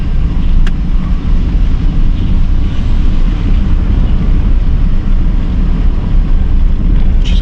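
A cheap, well-worn Chevy truck pulls along in second gear, a loud, steady low engine drone with road rumble and wind buffeting from inside the cab, no voices.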